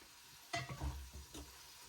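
Food is stirred in a pan inside a campervan, giving a soft sizzle with a couple of scraping, clattering strokes of a utensil against the pan, close up and with no voices.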